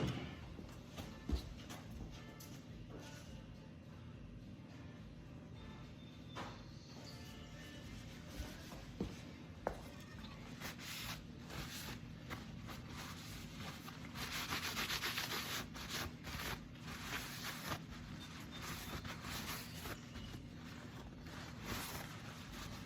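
A paper towel is rubbed over a CNC-milled mokume gane billet to wipe off cutting fluid, producing quiet, repeated scrubbing strokes at close range, with a louder, busier stretch of rubbing midway.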